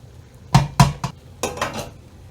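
Cooked couscous goes onto a tray, with a few sharp metallic clinks and clatters of a utensil against the tray in two short clusters, close and fairly loud.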